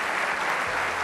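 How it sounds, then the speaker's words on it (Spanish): Applause from a group playing a miming game while jumping on a trampoline, a steady dense patter of clapping throughout the short burst with no one talking. "¡Aplauso para Eva Iglesias!"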